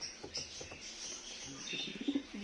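Homing pigeons cooing softly in a loft, low coos mixed with faint chirps and rustling at close range.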